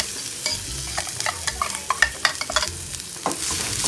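Tomato puree being stirred into golden brown fried onion masala for a paneer curry, with busy scraping spoon strokes over a constant sizzle, close and lively.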